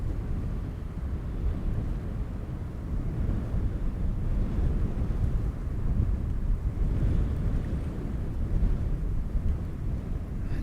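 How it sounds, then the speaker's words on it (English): Steady gusty wind buffeting a microphone outdoors at Amsterdam Schiphol Airport, a dense low rumble that swells slightly in the middle and stays loud throughout with no voices. "the wind seems to be picking up a little bit."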